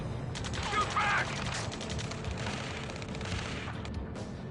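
Rapid bursts of gunfire in the Ace Combat 7 video game, a dense, continuous barrage under loud ambient battle noise with some voice chatter mixed in.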